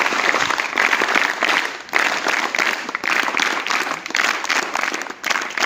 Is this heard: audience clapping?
yes